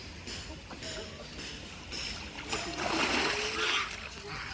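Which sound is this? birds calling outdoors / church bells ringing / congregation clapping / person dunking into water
person dunking into water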